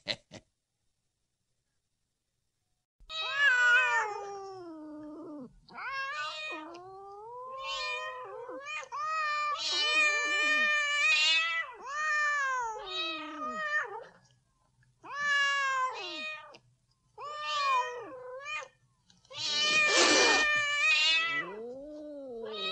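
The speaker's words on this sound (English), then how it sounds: "Come on now, be a nice little pussycat." Cat meows and drawn-out caterwauls from the Disneyland Pirates of the Caribbean ride soundtrack, a run of loud, close, wavering yowls in bursts with short pauses, ending in a harsh screech.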